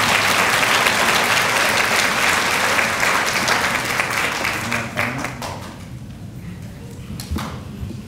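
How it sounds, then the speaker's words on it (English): Applause from an audience at a health sciences graduation ceremony for medical assistant graduates, a loud sustained patter of clapping that fades out after about five seconds, leaving a few scattered claps and room noise. "let's give a warm round of applause and congratulations to medical assistant graduates"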